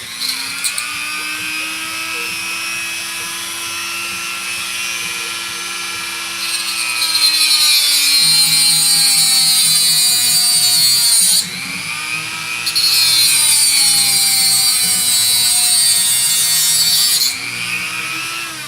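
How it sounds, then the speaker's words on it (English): A rotary Dremel tool whines loudly and steadily as it cuts the steel part off a screw, its pitch dipping and rising as the cutting wheel bites in, with brief easing around the middle. "I'm going to take a pair of pliers here and a rotary Dremel. And I'm just going to cut the steel part off."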